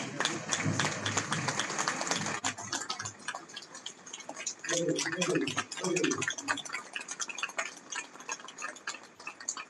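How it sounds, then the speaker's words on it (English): Audience applause at a public meeting after a benediction, a crisp rapid patter of clapping that tapers and fades midway, with voices briefly rising under it. "Give them a round of applause."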